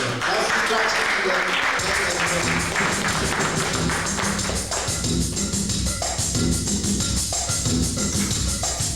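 A church congregation claps along for Jesus during a French and German worship service, steady rhythmic applause filling the room under singing and spoken praise throughout.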